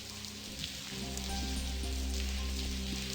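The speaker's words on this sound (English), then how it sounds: "I don't hear anything besides the rain." Steady rain from The Blackwell Convergence game, a continuous hiss of drops on a surface with a low rumble, swelling slightly after the first second and holding constant, with no talk.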